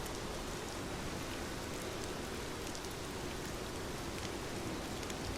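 Steady rain falls through the night, a dense, even hiss of drops on surfaces that holds constant and close throughout, with no voices or other sounds.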